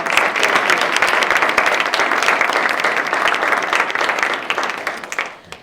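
A town hall crowd at a Martin Luther King Day celebration claps steadily in a loud, dense round of applause that tapers off at the very end.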